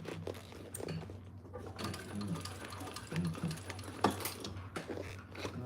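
A sewing machine stitches slowly, with sparse, irregular mechanical ticks and clicks at close range, as if one stitch at a time, over a low steady hum.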